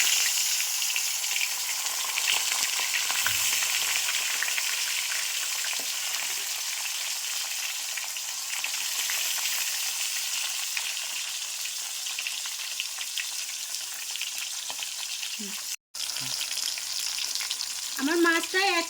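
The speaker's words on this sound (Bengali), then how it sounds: "আমি এখন এই তেলের মধ্যেই একটা একটা করে মাছ দুটো ছেড়ে দেব" Two pieces of hilsa fish sizzle steadily in hot oil, a dense, even crackle and hiss that holds close and loud throughout, with a brief break near the end and a few clinks of a utensil.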